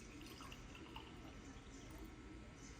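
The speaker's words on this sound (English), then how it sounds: "take your water, fill up your glass" Water poured into the glass of a Wake Hydro Mini alarm clock, a steady, close liquid pour and trickle running evenly throughout with no talking.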